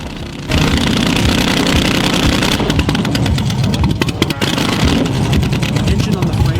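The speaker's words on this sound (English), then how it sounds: "The engine on the frame roared to life like an awakening dragon, letting out a thunderous blast." A 1965 Shelby Cobra engine, mounted on a bare frame during a restoration of a burned-out car, fires up through open headers into a loud, steady, rumbling roar that stays up close and continuous.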